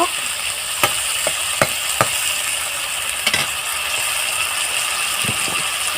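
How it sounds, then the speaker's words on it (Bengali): Drumstick stems and chopped onion stirred in a frying pan, a continuous close sizzle broken by sharp, irregular scrapes and taps of a spoon against the pan. "ডাটাটাকে ভালোভাবে পেঁয়াজের সাথে মিশিয়ে দেব"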